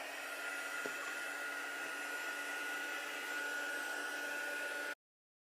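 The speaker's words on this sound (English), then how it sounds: "let's go ahead and heat emboss this. Bring in your heat tool again." A handheld heat embossing tool blows hot air steadily for about five seconds, a loud, even whoosh with a faint motor whine, then cuts off abruptly.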